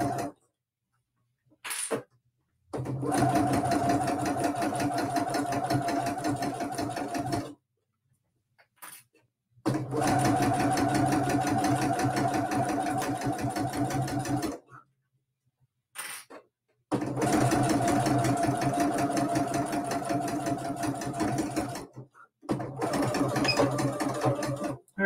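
A sewing machine stitches a faux leather luggage tag in several long, steady whirring runs of a few seconds each. Brief silent pauses separate the runs, and a short burst marks the ending back stitches.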